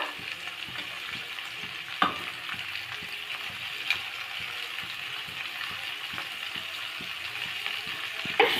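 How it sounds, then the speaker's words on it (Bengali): Chopped onion and capsicum fry in a pan with a steady close sizzle, punctuated by a few sharper spatula scrapes and clatters as the vegetables are stirred. "পেঁয়াজটা হালকা ভেজে নেওয়ার পর কেটে রাখা ক্যাপসিকামটা দিয়ে দেওয়া হলো।"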